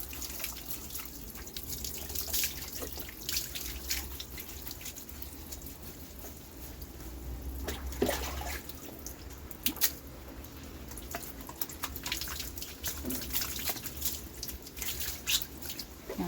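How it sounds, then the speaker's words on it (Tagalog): Water runs steadily from a tap while pets are rinsed of shampoo during a bath, a soft, continuous splashing broken by scattered drips and sharper splashes, with no talk. "kailangan po nating banlawan ng maigi para maiwasan po yung mamumuo ng shampoo sa kanilang katawan"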